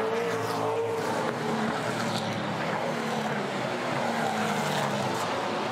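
Super2 race cars at the Townsville SuperSprint street circuit, engines droning steadily through a corner, a continuous mid-distance roar with passing tonal whine and no break.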